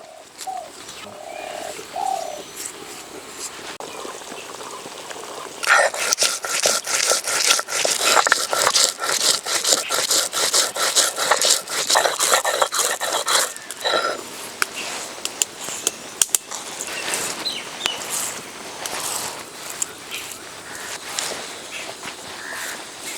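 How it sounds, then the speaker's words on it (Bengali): Roasted spices are ground on a grinding stone in rhythmic, rasping strokes that build loud and close in the middle stretch, with pigeons cooing softly nearby before the grinding starts. "ভাজা মশলা ভেজে রেখেছিলাম, এবার বেটে নেব"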